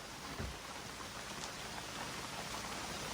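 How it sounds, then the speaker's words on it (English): Steady rain falls outdoors around a cabin, a dense, even hiss of drops on surfaces that continues without pause, with no voices. "Out here in the rain at Cold Beer Cabin."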